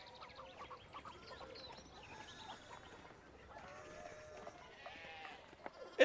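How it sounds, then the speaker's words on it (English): Sheep bleating on a road in the video game Pentiment, several overlapping nasal calls from a flock, moderately close, running over a quiet game background. "Alright, so the sheep block the road."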